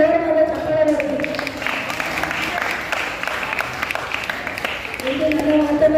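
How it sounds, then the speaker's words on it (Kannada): Loud applause for a teacher at a children's camp gathering in Davangere, a crowd clapping steadily for several seconds between stretches of a voice speaking. "ಅವರಿಗೆ ಒಂದು ಜೋರಾದ ಚಪ್ಪಾಳೆ ಬರ್ತದೆ."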